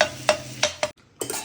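Food being roasted and stirred in a pan, with three sharp spatula scrapes against the metal over a low sizzle, a brief pause, then another scrape.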